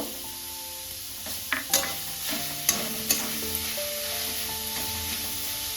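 Chhana and grated coconut are stirred in a pan while making sandesh, a soft low sizzle running throughout under several light scrapes and clicks of the spoon against the pan.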